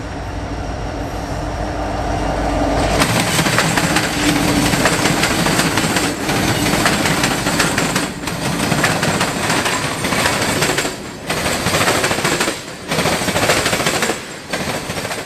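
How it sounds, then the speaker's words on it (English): A freight train led by Norfolk Southern SD70ACE locomotives, one in Erie Railroad green and silver, rolls past loudly and close, with a steady heavy roar and rhythmic clattering of cars that keeps on to the end. "Led by NS 1068, an SD70 Ace painted in the Erie Railroad's green and silver paint, UP 9096 would trail second, being another SD70 Ace"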